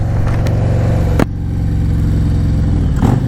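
2022 Harley-Davidson Road Glide V-twin engine while riding in city mode, a loud, steady, low throbbing rumble with a brief throttle blip and clatter, close to the rider and with no talking.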